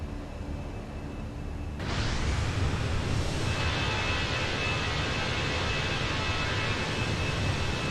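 Simulated Airbus A320 airliner climbing out of Houston, a steady broadband engine and airflow roar that swells abruptly after a quieter opening and then holds loud and constant, with no voices.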